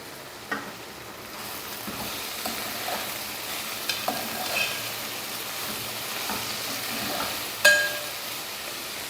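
Dry prawns and brinjal curry simmering in a pan, a low continuous sizzle with occasional spoon scrapes and a few light metallic clinks, one louder clink near the end.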